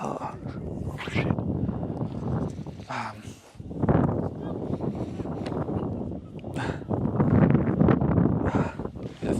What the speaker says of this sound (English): So because of the wind, I can't really fly a lot with John today.